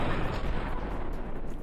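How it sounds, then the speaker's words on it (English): A loud, dense explosion in the video game Fallout: New Vegas rumbles with a sustained low roar and crackle that fills the whole moment without letting up. "Hell of an explosion there."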